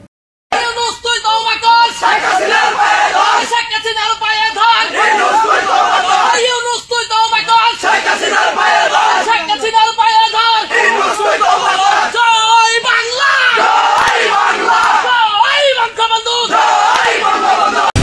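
A large protest crowd chants slogans in unison, loud and rhythmic, with repeated call-and-response phrases rising in waves across a long stretch.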